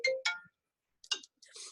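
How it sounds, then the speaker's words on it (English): A mobile phone ringtone plays in short melodic bursts, two quick tones, a pause, then two more, fairly faint and alone without talking. "I apologize, I did not silence my phone."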